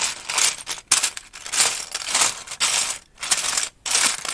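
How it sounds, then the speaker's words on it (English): Plastic Lego bricks clatter and rattle in bursts as hands rummage through a loose pile, with brief pauses between each rustling shuffle. "There's lots of sounds of me shuffling Lego around"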